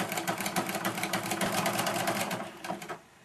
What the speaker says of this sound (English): But just start sewing, keeping a 1/4 inch edge